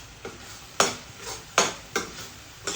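A spoon works tomato paste into a sausage curry in a pan, with four or five quiet, evenly spaced scraping strokes over a soft background.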